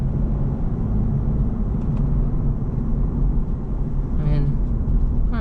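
A 2015 Lexus IS350 AWD engine holds a gear with a steady, full low rumble of road and engine noise that runs without a break, with a brief higher whine near the end.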